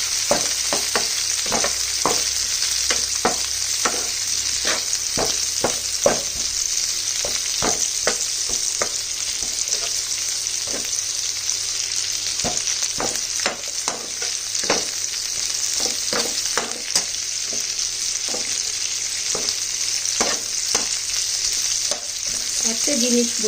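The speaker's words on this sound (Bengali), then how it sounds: "চলো এটা একটু নেড়ে চেড়ে দিই।" Chilli chicken frying in a pan gives a loud, constant sizzle. A spatula stirs and scrapes through it with frequent sharp clicks and taps.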